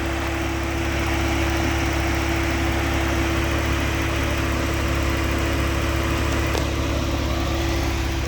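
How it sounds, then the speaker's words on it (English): A 2004 Porsche 911 Carrera 4S engine, already warm after a cold start, runs at a steady idle with a constant loud drone and low rumble, close and uninterrupted, with no talking over it. "I know we did a cold start, but this is just engine running."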